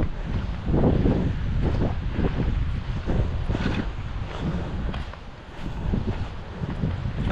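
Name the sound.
strong wind blowing outdoors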